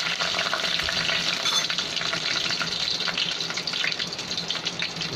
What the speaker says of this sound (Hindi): अब इसके अंदर हम लोग डालेंगे मस्टर्ड सीड्स, राई, ये 1 चम्मच के बराबर है। इसको बराबर से पहले फूटने देंगे।